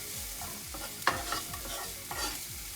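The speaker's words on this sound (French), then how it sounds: "là on entend bien le bruit de la poêle qui frétille" Chopped mushrooms sizzling and crackling in a hot frying pan for a vegetarian steak, a steady close hiss with scattered pops and a stirring scrape, no voices.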